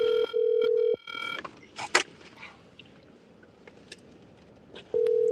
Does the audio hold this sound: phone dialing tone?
yes